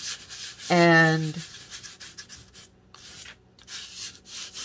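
A torn paper napkin is rubbed lightly over a journal page in a soft, brief scraping pass, close up; a short voiced tone briefly rises over it.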